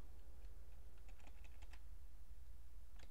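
Keys clatter on a computer keyboard as a terminal command is typed, with quiet bursts of quick clicks separated by short pauses, over a low steady background hum.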